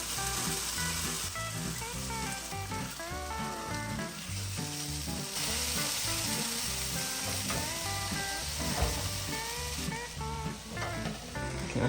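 A hobo dinner sizzling and frying with garlic on a camp stove outdoors in the Rockies during a snowstorm, a steady crackling hiss running under a dense layer of other sound, with no voices.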